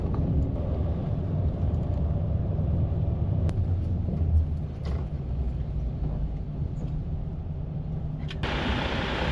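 Highway bus driving from Yokohama into Kisarazu city, a steady low engine and road rumble inside the cabin with a few faint knocks and no talking.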